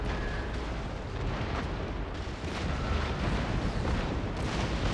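Cannon fire in the Empire: Total War naval battle rumbles as a dense, continuous roar of booming blasts and crackling bursts, loud and layered with no clear gaps between shots.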